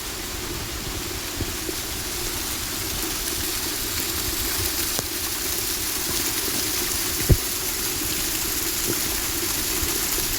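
Rainwater pours down from a mountain in a stream during heavy rain. It makes a steady, loud, broadband rush with no breaks, and a few faint knocks are scattered through it.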